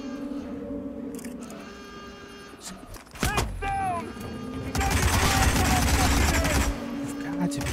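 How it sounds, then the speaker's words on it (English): Gunfire from a hitman video game, with a dense burst of rapid shots and broadband crackle that sustains loudly through the second half, following sharp mechanical clicks and whirring. Mixed with other game sounds. "He's firing!"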